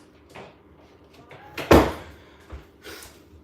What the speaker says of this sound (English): I'm gonna go close that door